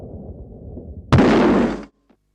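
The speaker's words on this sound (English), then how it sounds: "First, an explosion with a narrow, sufficient crack." A single sharp explosion in a laboratory explosion-proof test, a sudden loud blast that roars for under a second and cuts off abruptly, following a low rumbling hum.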